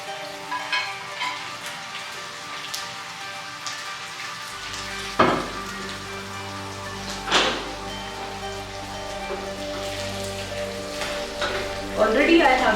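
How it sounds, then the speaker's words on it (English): Blanched cauliflower fries in a pan with a steady, soft sizzle and crackle, a few sharper spatters and stirring knocks breaking through, while a voice talks over the cooking. "So I am going to fry cauliflowers"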